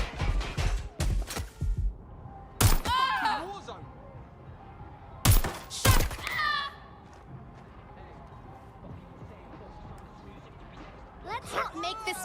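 Sharp gunshots ring out in Watch Dogs Legion, several loud cracks in short bursts amid shouting voices and game effects.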